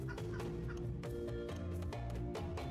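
Chickens in the survival strategy game Primitive Society Simulator cluck and gobble in a dense, close cluster, with repeated short bird calls layered over a busy low background.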